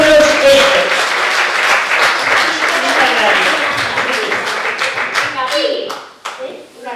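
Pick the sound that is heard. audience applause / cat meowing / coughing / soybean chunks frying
audience applause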